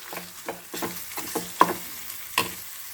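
Grated amla fries in a pan and is stirred now and then, giving a soft sizzle broken by several scraping strokes of the spoon against the pan.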